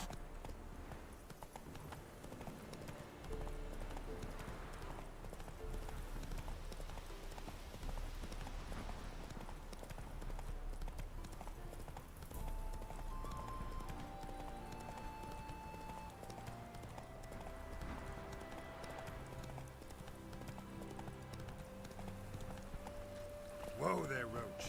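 Hoofbeats of the horse Roach galloping in The Witcher 3, a steady rapid clip-clop mixed under game music and ambience, with a voice talking partway through.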